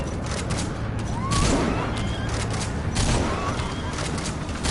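Bursts of gunfire and explosions crackle through a hospital escape in Metal Gear Solid V: The Phantom Pain, dense and continuous, with shouted voices over the shooting.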